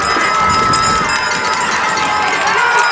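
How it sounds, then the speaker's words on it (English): Noisy crowd at a high school varsity football state Class B championship game, a dense, steady wash of cheering and shouting voices from both sides filling the stands throughout. "Crowd on both sides getting rowdy."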